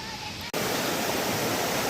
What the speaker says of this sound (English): Here's the creek before whatever rain we get.